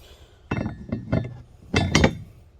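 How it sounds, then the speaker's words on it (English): A Monroe strut part clinks down into a RalliTek top hat spacer, several sharp metallic clinks and knocks in quick clusters, close and distinct over a quiet background. "you can hear it clink all the way down at the bottom."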